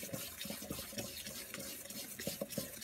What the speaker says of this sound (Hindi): हम इसे अच्छे से मिक्स कर लेंगे।